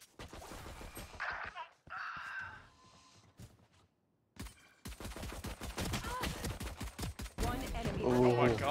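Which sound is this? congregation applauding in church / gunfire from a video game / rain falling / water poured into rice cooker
gunfire from a video game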